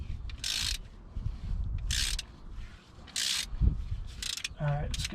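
A wrench loosens and tightens a greasy stud on a 1962 Willys Utility Wagon that sat for 28 years. Short, close bursts of ratcheting clicks repeat at intervals over a low background rumble.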